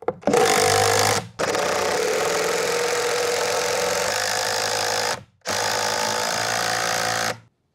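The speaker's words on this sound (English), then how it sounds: "it's gonna insert my screw exactly through both plates inside the rafter" A power drill drives a screw through rafter plates on a roof build: two long whirring runs with a brief pause between them and a shorter third burst, loud and close with no voices.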